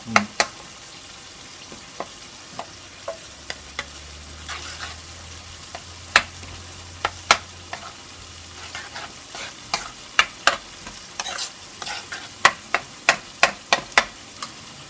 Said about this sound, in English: Everything in Indian cooking is in the frying.